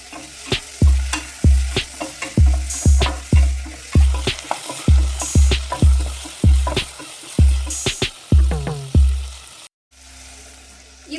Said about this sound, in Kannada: ಇವಾಗ ಟೊಮೆಟೊ ಮತ್ತು ಈರುಳ್ಳಿ ಎರಡೂ ನೀಟಾಗಿ ಸಾಫ್ಟಾಗಿ ಬೇಯಬೇಕು ಅಲ್ಲಿವರೆಗೂ ಚೆನ್ನಾಗಿ ಫ್ರೈ ಮಾಡ್ಕೋಬೇಕು